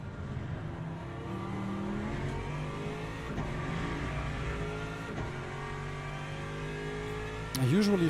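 An Aston Martin GT3 race car in Le Mans Ultimate, the engine droning steadily with rising and falling pitch through gear changes at racing speed, close and continuous, with someone talking over it.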